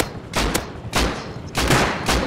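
Gunfire in the survival game Rust, a rapid string of loud, close booming bursts coming in quick irregular succession with no talk over them.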